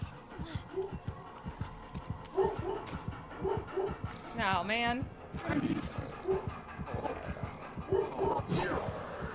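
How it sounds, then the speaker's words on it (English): A pet dog barks and yips in a home while a gaming session plays, the short barks and whimpers scattered among game sounds and a voice talking and laughing. "And now my dog's barking."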